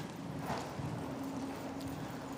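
A horse's hooves beat a rhythmic galloping clip-clop on the track of a circus school ring, fairly close and steady, with a faint low hum underneath.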